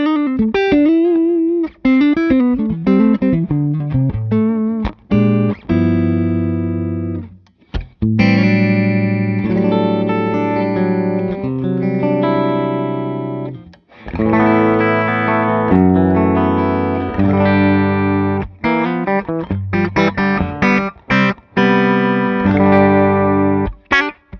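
Electric guitar played through an amp and switched by a remote footswitch, chords and single notes ringing out loud with effects and distortion, short pauses between phrases and no talking.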